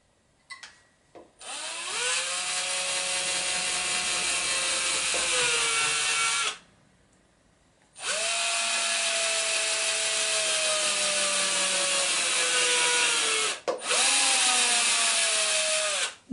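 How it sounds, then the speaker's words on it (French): Electric drill with a wire bit boring holes to mount fittings for halyards and shrouds while rigging a small cutter sailboat: two long, steady, high whining runs separated by a short pause, close and loud, with a brief stop near the end. "Il faut prendre la perceuse."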